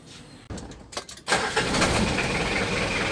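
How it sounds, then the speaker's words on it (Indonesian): A car engine cranks over briefly with a few stuttering starter pulses, then catches and settles into a steady, loud idle close by during brake vacuum checks on a car. "Oke, saya hidupkan mesinnya."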